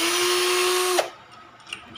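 A Black and Decker GC1800 drill drives a Phillips screw with a loud whirring whine that cuts off abruptly, followed by a faint click or two in near quiet.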